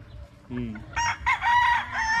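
Timberland Gilmore gamefowl rooster, a January-born yellow-legged broodcock, crows loudly and close in a backyard, with a short cluck before the drawn-out cock-a-doodle-doo.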